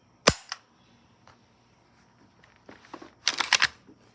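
A Black Aces Tactical shotgun fires with one sharp, loud crack near the start, followed by a short clatter and a later burst of mechanical clicks and rattling handling noise.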